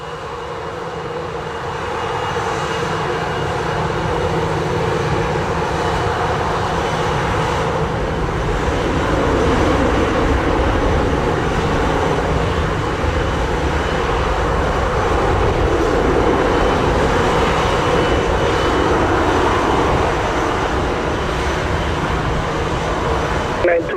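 A Delta airliner lines up on the runway at Montego Bay, Jamaica, its engines giving a loud, continuous roar heard from out on the sea, steady and rising slightly for the whole stretch.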